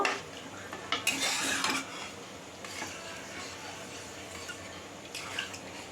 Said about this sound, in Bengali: এবার এটাকে ভালো করে আমি মিশিয়ে নেব